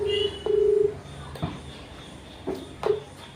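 Outgoing phone call ringback tone for a prank call, a short steady tone burst near the start and another soon after, with faint clicks and thumps between, moderately quiet and with no talk.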